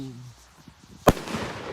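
A single sharp firework bang cracks out at New Year's Eve, followed by a hissing rush as the rocket launches, with faint background noise and murmuring before it.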